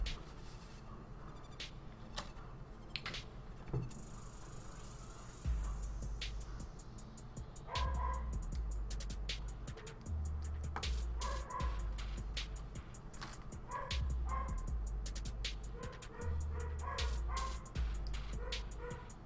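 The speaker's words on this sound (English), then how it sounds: "Don't mind the dogs being fed." Several dogs waiting to be fed bark and yip insistently, with rapid, repeated bursts and higher whiny yelps. The noise is fairly loud and keeps going throughout, with no talking.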